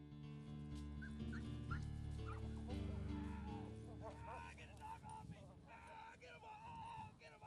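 A giant Schnauzer police dog in a sheriff's department training session barks and whines excitedly, with short yips and whimpers close by, mixed with shouting voices.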